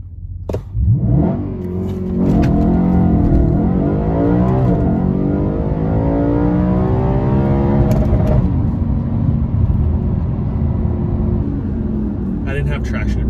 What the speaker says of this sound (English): Let's try to get launch control here quick.